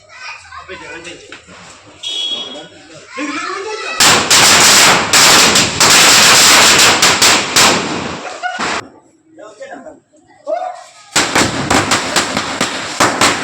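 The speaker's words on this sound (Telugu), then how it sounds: "వాళ్ళు బాంబులు పేల్చుతున్నారు" Rapid loud crackling bursts of Diwali firecrackers exploding in two long volleys, with people talking in between.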